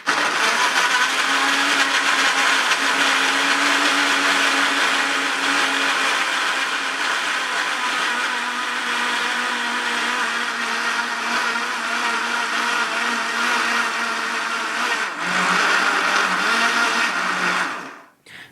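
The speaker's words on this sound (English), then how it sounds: "I'm going to bob the lid on the blender, and I'm just going to whisk this in the blender." A kitchen blender whirs steadily as it mixes pancake batter with banana and cinnamon, a loud continuous motor drone that runs for a long stretch and then winds down.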